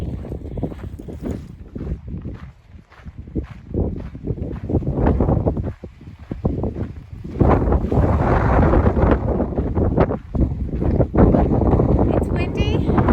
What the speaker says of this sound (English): It's windy, which is good, because otherwise it's hot.